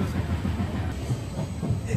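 Low, steady rumble and rattle of a train rolling along the tracks, heard from inside with a constant muffled drone.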